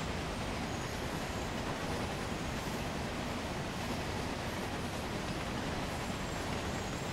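A heavy steam-hauled train slows under braking in Train Sim World 2, with a dense, continuous rumble and rail roar at steady loudness and no talk over it.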